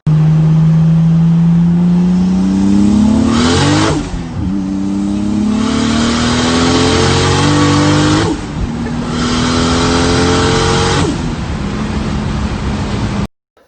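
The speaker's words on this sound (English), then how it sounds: "So the car pulls nice" A modified Toyota Supra accelerates hard through the gears, engine pitch climbing steadily in three long pulls with quick dips at each upshift, loud and close before cutting off abruptly.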